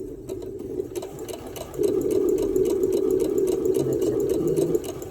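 A sewing machine runs steadily while back stitching a fabric face mask, a continuous close motor whir that grows louder partway through and holds without pause.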